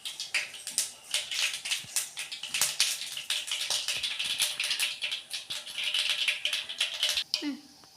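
Mustard seeds crackle and pop in hot oil, a rapid irregular stream of sharp little bursts, close and steady throughout.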